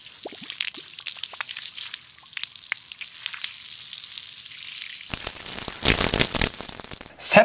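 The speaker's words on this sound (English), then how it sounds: "A video of watering a Begode wheel like a plant." Water poured over a Begode electric unicycle, a steady hiss of trickling, spattering liquid that swells into louder gushing splashes near the end, close and with no talk.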